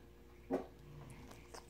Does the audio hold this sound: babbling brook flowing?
no